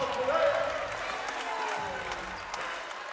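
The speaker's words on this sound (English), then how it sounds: "The crowd enjoyed that." A basketball crowd cheers and claps after a big defensive block, a broad, fairly distant roar that fades slowly under commentary.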